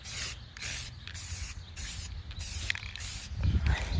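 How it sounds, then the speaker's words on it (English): A can of matte black spray paint is shaken and sprayed in repeated bursts. Sharp hissing spurts alternate with the rattle of the mixing ball, all close up with no talking. "I got my spray paint. I'm just going to do matte black for now, and I'm just shaking it up right now"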